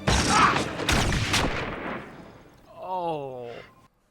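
Gunfire from the Firefly episode The Message, a loud, close cluster of shots and crashing impacts, then a voice cries out as the noise fades.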